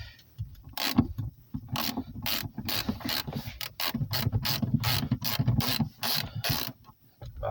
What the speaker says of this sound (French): j'ai enquillé ma douille hein, dessus. Et pareil, on va dévisser.